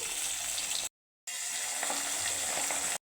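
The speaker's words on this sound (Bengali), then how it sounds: "পাবদাগুলোকে কিন্তু আমি হালকা করে আরেকটু ভেজে নেব" Pabda fish frying in hot oil in a pan, a steady close sizzle with a short break in the middle, then the sizzle returns with light clatters.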